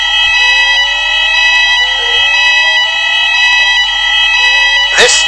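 A mall fire alarm sounds a steady, loud electronic tone that holds unbroken for several seconds, with a brief burst of noise near the end.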